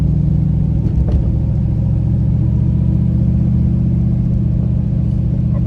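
A car with a recently swapped differential cruises in second gear at low RPM through a neighborhood street at about 30 mph, its engine a loud, steady, low drone with no revving.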